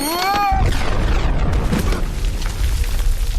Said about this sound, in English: Explosion's so close to you